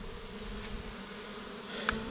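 A steady, low drone of many bees buzzing together, fairly faint and continuous, with no voices.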